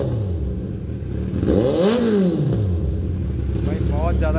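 A Kawasaki Z900 motorcycle with a loud exhaust idles with a rough rumble, then revs up and falls back once, close and loud, while someone talks over it.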